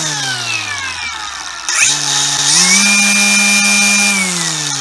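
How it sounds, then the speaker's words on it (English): A Craftsman 60V cordless string trimmer's electric motor whining up to speed, then holding a steady high, loud hum with a slight pitch rise partway, close to the microphone and without talk. "let me let you hear what that motor sounds like"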